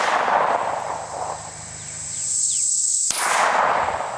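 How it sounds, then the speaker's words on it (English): A single sharp shot from a Smith & Wesson Competitor S pistol cuts in suddenly after a stretch of steady background noise. It is a loud crack followed by a noisy, ringing tail. "Let me get a couple of shots off"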